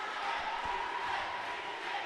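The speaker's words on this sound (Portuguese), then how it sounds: "A torcida tá desse jeito." A crowd cheers and shouts steadily at a dodgeball (queimada) championship match, a dense roar of voices at a constant level.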